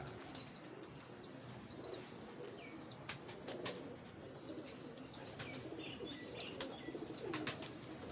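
Flown pigeons coo softly in a quiet, faint setting, their repeated calls joined by scattered small-bird chirps and a brief flutter of wings.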